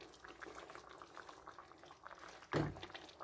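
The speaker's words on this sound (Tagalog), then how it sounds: "Pakuluan lang natin ng sandali." Fish pucheco with fresh beans simmering in a pot, a soft, faint bubbling and gurgling of liquid that continues steadily, with a brief louder splash or clunk near the end.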